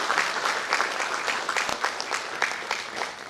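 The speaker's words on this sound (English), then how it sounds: "big round of applause to all of" An audience at an Antarctica Day ceremony applauds, a moderately loud, dense patter of many hands with a few sharper individual claps standing out, and no voices over it.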